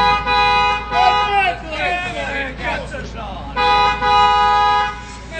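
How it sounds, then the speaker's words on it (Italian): Car horns honking in an Italian street celebration, repeated loud toots in bursts close by, with a busy hubbub of voices and traffic around them. "Clacson."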